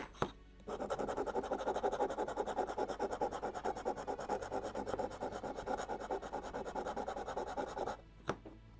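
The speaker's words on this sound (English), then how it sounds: "Slight sanding." Sandpaper rubbed back and forth on a wooden part of a 1:76 scale Mayflower (1620) beakhead model ship kit, a steady close raspy scraping lasting about seven seconds before stopping, with a faint tap afterward.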